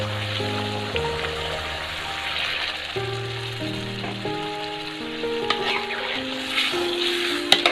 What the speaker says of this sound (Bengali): আমি ঝোলের পানি দিয়ে দিব